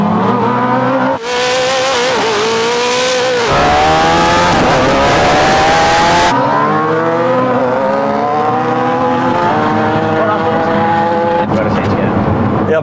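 A Koenigsegg Jesko and a supercharged Suzuki Hayabusa drag racing, engines roaring loud and close with rising revving sweeps, gear changes and a held high-pitched wail, with voices talking over the noise.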